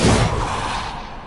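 Bombarda explosion spell going off in the video game Hogwarts Legacy, a loud booming blast at the start that rolls into a dense rumbling decay over about a second, with no talk.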